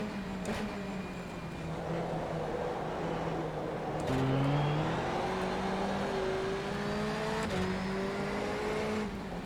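A Subaru race car engine in a racing video game drones steadily, its pitch climbing and shifting through gear changes, loud and continuous with no talk.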